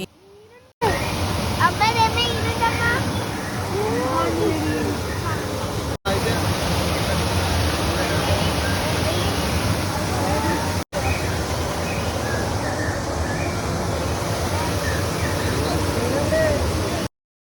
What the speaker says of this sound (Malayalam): ദേ അവർ നല്ല വെള്ളച്ചാട്ടമൊക്കെ സെറ്റ് സെറ്റ് ചെയ്തിട്ടുണ്ട്